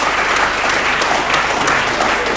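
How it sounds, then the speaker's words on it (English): A conference audience at a Rotary Club District 9141 World Interact Day event bursts into loud, steady applause that fills the whole moment, dense and continuous with no voices over it. "Please, a round of applause for him."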